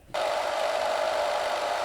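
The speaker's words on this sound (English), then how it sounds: "We're going to give this a quick blast with a hairdryer." A steady, loud whooshing blower sound starts abruptly and holds constant, like a hairdryer running close by with no talk.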